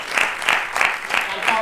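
Applause from a game-show studio audience at a Family Feud–style team battle, heard as a short burst of steady, close clapping that swells and eases in rhythmic pulses, with no voices over it.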